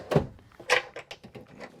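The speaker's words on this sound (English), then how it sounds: "And lock that up, shut the doors" Cabinet doors in the kitchen of a Thor Motor Coach Venetian luxury diesel pusher motorhome being shut and latched, giving a couple of close, sharp knocks followed by lighter clicks and rattles.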